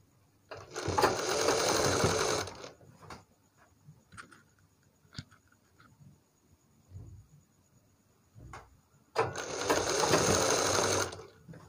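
A sewing machine stitches fabric loops onto a kurti neckline in two loud, continuous bursts, one at the start and one at the end. Quiet handling clicks and rustles of cloth fill the gap between them.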